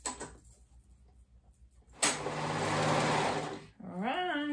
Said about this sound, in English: I'm gonna go ahead and sew all the way around. I'm using my serger for that step as well.